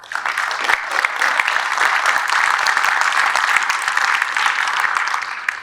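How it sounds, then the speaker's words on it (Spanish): An audience at a university panel discussion gives sustained applause, a steady dense patter of many hands clapping that holds level for several seconds before tapering off. "Le damos un aplauso."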